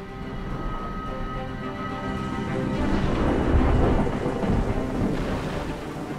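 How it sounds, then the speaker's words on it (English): A monsoon thunderstorm over Southeast Asia's Tonlé Sap Lake region, torrential rain pouring steadily with deep rolling thunder swelling in the middle, loud and continuous with no voices. "Torrential rains batter the whole of Southeast Asia during this period."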